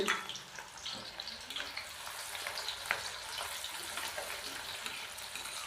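Finely chopped onions hit the oil for a chicken kachnar dish and crackle with a bright sizzle from the start. The frying hiss then carries on evenly at close range for several seconds, with faint stirring.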